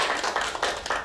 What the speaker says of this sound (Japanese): 最後にみんなで拍手して。